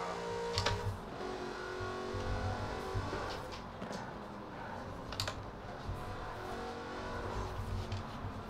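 Jaguar XKRS GT at full throttle in the video game Forza Horizon 4, a steady engine roar mixed with loud keyboard typing and clicks close by, with no speech.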